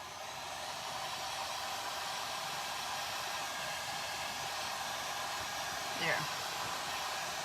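A hair dryer blows on a damp cardboard pumpkin craft with a constant, even whooshing roar from start to end, close and steady, and a voice briefly speaks over it near the end.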